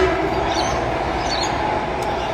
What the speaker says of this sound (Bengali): ট্রেন যায়, ট্রেন